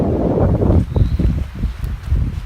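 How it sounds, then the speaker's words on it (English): Gusty wind buffeting the microphone outdoors at a campsite on the French River, with a loud low roar that surges at the start and then comes in uneven bursts. "it's like really windy out here"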